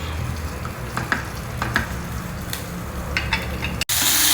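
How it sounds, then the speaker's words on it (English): Tamarind extract with cooked tomato and onion heats toward a boil in a pan for vendakka kuzhambu. It gives a continuous low sizzle and bubble with scattered stirring taps, then a brief cut and a louder hiss at the end. "we will add in this tamarind extract to it and allow it to come to a boil"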